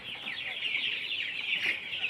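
Sonali chickens on a poultry farm clucking and calling continuously as a dense, overlapping flock chorus, moderately loud and close, with no talk over it.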